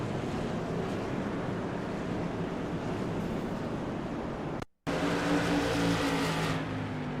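Onboard an SK Modified race car at Oxford, a steady loud engine roar with wind rush runs until a brief dropout, then returns with shifted tone as the car is bumped and spins around.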